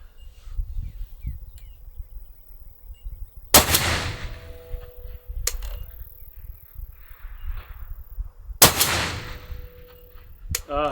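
A suppressed Barrett M107 rifle fires two loud, sharp shots about five seconds apart, each with a booming echo that rolls away across open ground at a 1,000-yard range, with faint insects and birds in the background.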